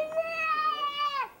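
A cat gives a single drawn-out meow, close and clear, rising then falling off over about a second.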